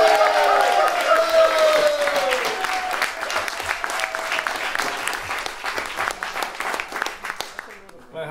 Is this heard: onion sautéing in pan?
no